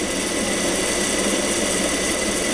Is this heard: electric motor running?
yes